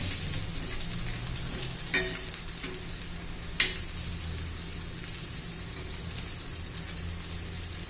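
Jowar flour vadis fry in a pan with a soft, steady sizzle, broken by a couple of sharp crackling bursts as pieces are flipped; fairly quiet and close, with no talking.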